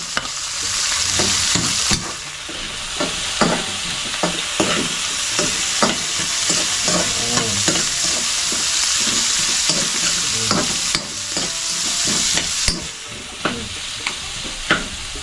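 Garlic and onion sauté in a pan, a continuous close sizzle broken by frequent sharp scrapes and clinks of a spoon stirring against the pan, with no talking.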